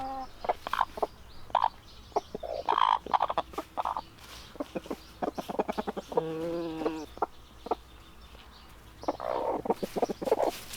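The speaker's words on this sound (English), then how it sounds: "The chickens are content now." A flock of backyard chickens cluck and chatter close by in irregular bursts, with one drawn-out, rising squawk in the middle, during a summer heat wave.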